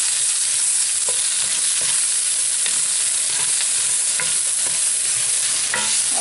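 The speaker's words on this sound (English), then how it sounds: "I've sauteed my 3 medium onions for about 5 minutes" Three medium onions sautéing in a pan for smothered pork chops, giving a steady, loud sizzle and frying hiss with occasional stirring scrapes and clinks, no voices.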